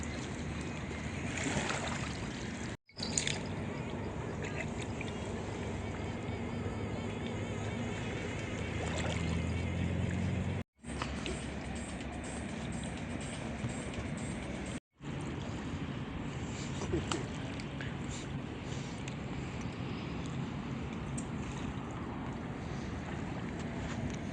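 A passing motorboat's engine drones steadily on a river in Kyiv, with water sloshing and wind buffeting the microphone, broken by a few brief dropouts; nobody speaks.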